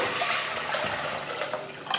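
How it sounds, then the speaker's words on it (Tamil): Water is poured into a cooking pot of soaked rice in a home kitchen, a steady rushing splash that runs continuously for a couple of seconds at close range. "இப்போ தண்ணி சேர்த்துக்கலாம்."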